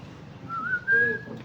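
A pet bird gives a short, clear rising whistle, close and alone, lasting under a second.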